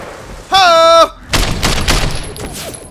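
Gunfire in the Sleeping Dogs video game, a rapid burst of several sharp shots crackling close by after a brief electronic tone.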